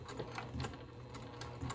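A sewing machine stitches a pint cozy, its needle running in a quick, steady mechanical whir with rhythmic ticks, close and fairly quiet.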